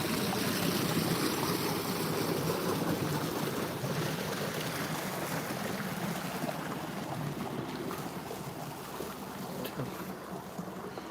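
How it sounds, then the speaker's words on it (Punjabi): Irrigation water runs into a field channel for a wheat crop, a steady rushing gurgle mixed with wind buffeting the microphone, continuous and fairly close, with no voices. "ਅੱਜ ਪਹਿਲਾ ਪਾਣੀ ਸਟਾਰਟ ਕਰਤਾ ਆਪਾਂ"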